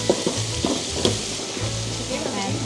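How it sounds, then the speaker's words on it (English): Tempeh frying in a pan during a Balinese cooking class in Ubud: a steady, close sizzle and crackle running throughout, with faint clinks of stirring. "we're cooking the tempeh for a second time"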